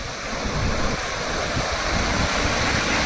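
Steady rushing of water pouring from an overfull canal, a continuous broad roar that is loud and close, with no voices.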